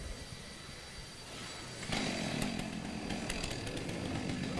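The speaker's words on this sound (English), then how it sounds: "on the video you can clearly see the saw coming through the timber" At the STIHL TimberSports New Zealand Championships 2023, a racing chainsaw idles at a distance, then surges into a loud, sustained high-revving whine as it cuts through timber for the rest of the clip.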